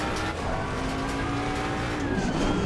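A GT3 Mustang race car in a racing video game spins out, its engine droning steadily under a drawn-out tire squeal and skid that builds toward the end, loud and continuous with no voice.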